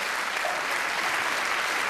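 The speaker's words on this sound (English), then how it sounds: "ladies, a round of applause for Steve" Audience applause at a Joe Pasquale stand-up comedy show, a dense, steady wash of many hands clapping throughout, loud and continuous with no talk on top.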